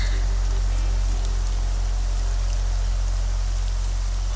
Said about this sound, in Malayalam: മഴയുടെ ഈ ആർത്തിരമ്പൽ എനിക്കെപ്പോഴും ഇഷ്ടമാണ്.